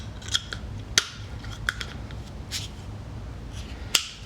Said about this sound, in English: Next up is going to be some industrial shears or scissors.